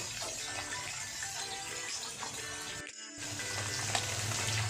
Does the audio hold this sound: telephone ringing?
no